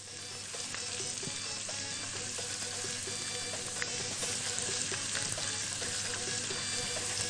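Garlic and coriander fry steadily in a little oil, a dense continuous sizzle with occasional crackles and faint stirring scrapes, close and even throughout, with no voices.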